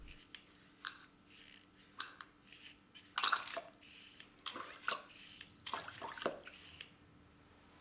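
A small plastic dosing syringe is pumped again and again to draw in water, giving a quiet series of wet squelches and short sucking bursts that grow busier toward the middle, with no voices.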